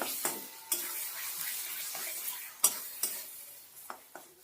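Flat bean mash dries in a pan over medium heat while being stirred now and then; soft sizzling sits under a series of sharp, close scraping strokes at irregular intervals.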